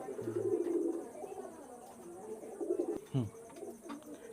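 Ferozpuri pigeons coo close by in low repeated throaty phrases, with scattered brief rustles and a sharper bump partway through.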